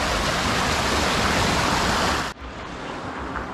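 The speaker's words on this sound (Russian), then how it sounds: "вот таких ручьев сейчас здесь не прибольшое множество, великое множество. Везде они текут." Mountain streams running beside the road up Ai-Petri in Crimea, a loud, dense rush of flowing water close by that drops abruptly to a softer, more distant flow partway through.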